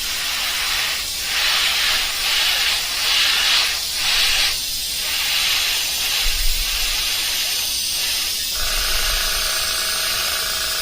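Spray paint hisses out in a light misting fade, loud and close, broken into several short bursts that overlap a steady background hiss.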